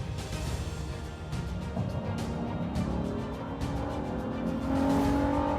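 A car engine revs hard as it launches from a start, a loud, rising drone that climbs steadily in pitch and strengthens toward the end, heard close without speech.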